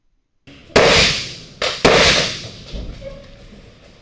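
Gunshots fired during a police room-entry training scenario at a doorway: three sharp, loud reports, with two close together and one a moment earlier, each followed by a short indoor ring, and no talking.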